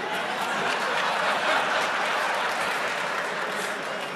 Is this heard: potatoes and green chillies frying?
no